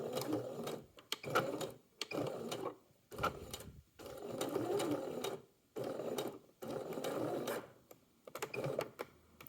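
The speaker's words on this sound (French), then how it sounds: "on va faire comme tout à l'heure, piquer le long des trois côtés en faisant bien des points d'arrêt au point droit" A sewing machine stitches along the sides of a hook-and-eye bra closure, quiet whirring runs of stitching in repeated short bursts separated by brief pauses, close and alone.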